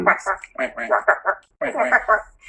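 A human voice imitates a duck with a quick run of nasal quacks, two bursts of rapid quacking separated by a short pause, loud and close in a quiet room.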